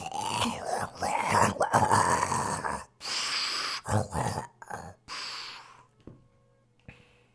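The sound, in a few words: voice imitating a creature's huge snore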